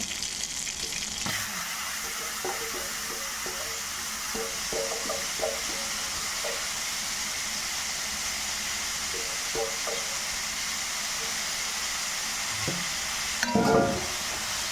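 Papaya sautéing in ghee in a pan for papaya puttu, with a continuous soft sizzle and light stirring scrapes, and a louder clatter near the end.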